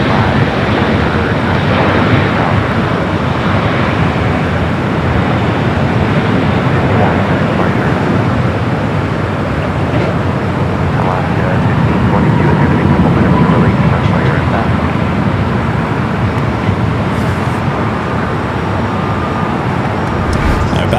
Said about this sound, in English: Looks like South Cam 1 getting that Dreamliner as she's now rolling down 25 right.